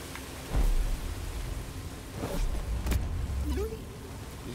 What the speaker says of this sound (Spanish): Está lloviendo, chaval.